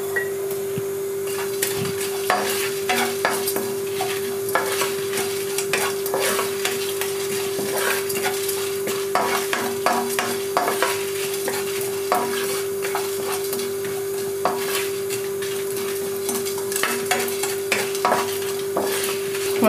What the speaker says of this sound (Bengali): মশলাগুলো আমার ভাজা হয়ে গেছে।